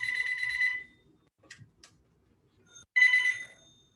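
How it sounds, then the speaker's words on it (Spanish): A home landline telephone rings in two loud, bright bursts of rapid electronic trilling, separated by a quiet gap with a few faint knocks, and no voices over it. "está sonando el teléfono de mi casa"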